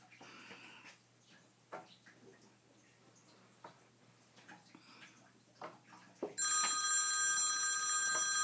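A mobile phone left in a room rings, its bright sustained ringtone cutting in loudly near the end after several seconds of quiet room noise with faint knocks and rustles.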